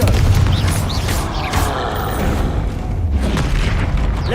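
A Confringo fire-blast spell erupts in the video game Hogwarts Legacy, a loud, sustained booming roar with crackling bursts layered over continuous combat noise.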